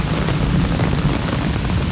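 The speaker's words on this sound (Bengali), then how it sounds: "অনেকদিন পর এইরকম বৃষ্টি।" Steady, heavy rain pours down at dawn outdoors while visiting a cow. It makes a dense, even hiss of falling water with no pauses, loud and close.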